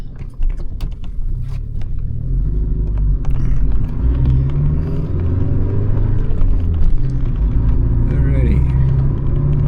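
A car drives along a road past a school zone, a steady low engine and tyre rumble with occasional creaks, under a voice speaking briefly.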